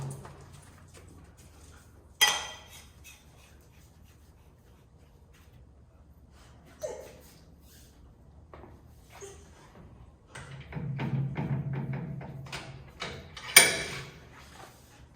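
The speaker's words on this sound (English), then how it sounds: "we're going to mount the fork in this parallel jaw vise so we can remove and loosen the bottom rebound bolt" A Showa 49mm motorcycle fork is clamped into a parallel jaw vise, giving a few sharp metallic clanks and knocks, with softer scraping and rattling, spread out over a mostly quiet workshop.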